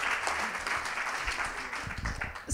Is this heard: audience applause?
yes